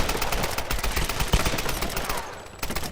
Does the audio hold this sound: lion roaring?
no